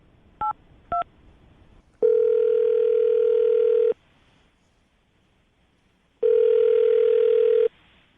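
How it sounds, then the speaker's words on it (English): A telephone dials a number, with two short touch-tone beeps followed by two long, steady ringback tones separated by a pause, alone without talk. "I'm going to dial the number right now."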